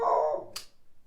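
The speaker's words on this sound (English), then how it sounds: "Sorry about the dog barking." A dog barks once or twice in the background, a short sharp yelp that trails off, heard alone at moderate loudness.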